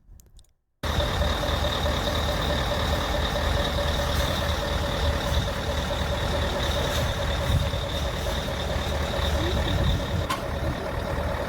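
Heavy-duty transport trucks laboring on a steep grade in Germany: a steady, loud diesel engine drone with a constant whine, running without pause after a brief quiet start, no talk.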